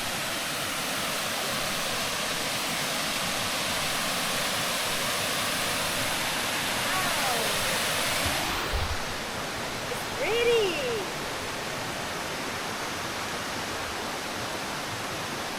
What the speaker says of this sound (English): It's a baby spring or waterfall.